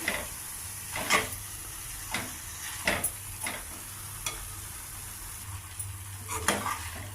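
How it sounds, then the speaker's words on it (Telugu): Ridge gourd pieces simmering in tomato puree in a pan, with a steady low sizzle and repeated stirring scrapes and clinks spread through the clip, close and moderately loud, no talking. "బీరకాయ ముక్కలు కూడా టమాటా ప్యూరీలో మగ్గాయి"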